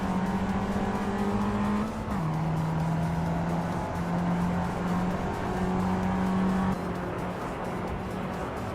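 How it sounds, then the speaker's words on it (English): A 1998 Toyota Chaser races in a driving game, its engine droning steadily, dropping pitch with a shift about two seconds in, then holding a loud, even tone with faint tire noise around it. "Maya is currently in the 16th place, driving a 1998 Toyota Chaser."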